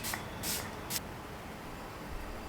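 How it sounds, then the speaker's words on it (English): Three quick spritzes of a fine makeup fixing spray, short airy hisses close by, then quiet room tone. "Now I'm again going to spray a glow up makeup fixer."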